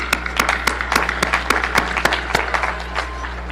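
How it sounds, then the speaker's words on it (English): A graduation crowd at Middletown High School's 2025 ceremony claps steadily, sharp individual claps standing out over a continuous wash of applause from a large audience, with a low hum underneath. "Give yourself a round of applause for making it here today."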